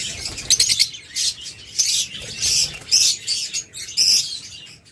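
Pet birds in a shop, masked lovebirds including blue and violet masked ones alongside sun conures, chirp and squawk in dense, overlapping bursts that carry on steadily throughout, loud and close, with no talking.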